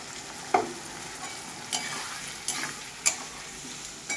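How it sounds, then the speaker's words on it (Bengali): White poppy seeds fry with potatoes in a wok, a soft steady sizzle punctuated by several sharp scraping stirs of a utensil against the metal at irregular intervals. "এবার আমি পোস্তটা দিব আর কিছুক্ষণ ভাজবো"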